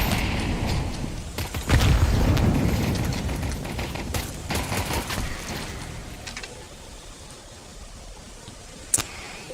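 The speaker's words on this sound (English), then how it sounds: "Grenade out. Incendiary out." Grenade and incendiary blasts in a video game play out as a cluster of dull booms and crackling bursts early on, fading into a low rumble with one sharp pop near the end.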